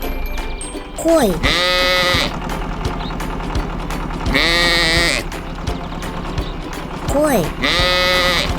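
Several loud sheep bleats, each a drawn-out wavering cry, come in three bursts spaced a few seconds apart over steady background noise, amid a run of farm animal calls.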